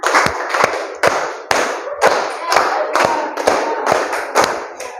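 A group of people clap their hands together in unison during a concentration clapping game, sharp claps landing in quick, evenly counted bursts for about five seconds with a faint room murmur between them.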